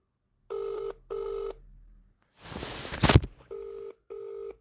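Telephone call tones: two pairs of electronic ring bursts, a short burst of noisy rustle, then two more ring bursts, loud and close with no voices.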